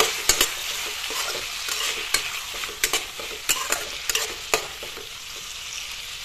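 Spices being stirred in a pan for a meat curry, with ground spices added for a jalukiya gravy: a steady frying sizzle broken by repeated sharp scrapes and taps of the spoon on the pan, close up and with no talk.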